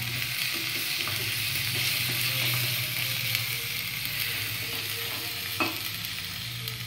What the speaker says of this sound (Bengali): আমি সবকটা মশলাই একসাথে দিয়ে দিলাম।